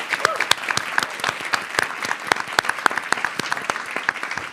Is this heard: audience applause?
yes